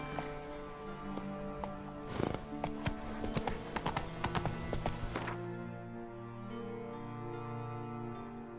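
Roach the horse in The Witcher 3: hooves clip-clop in a quick, irregular run of close, crisp strikes for several seconds, then stop, leaving a low, steady ambient drone.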